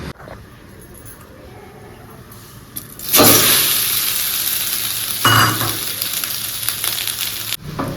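Pasta in a pan starts to sizzle and bubble loudly as milk is poured in, a bright hissing surge after a quieter start, swelling again briefly before cutting off near the end.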